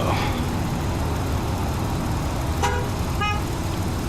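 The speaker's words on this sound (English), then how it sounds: "I got people honking at me here" Car horns sound twice in American Truck Simulator, short tonal toots heard over a constant loud rumble of engine and road noise from the truck.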